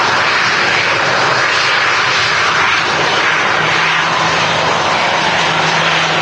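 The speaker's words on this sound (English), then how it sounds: "we've got a Virgin Atlantic Airbus A380" A Virgin Atlantic Airbus A380 taxiing out at Manchester Airport gives a loud, steady jet engine roar that fills the whole stretch without a break, and no voices.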